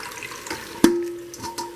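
Water runs into the side of a pot of stewing chicken, a brief splash followed by a steady trickling pour that fades, close by and heard alone.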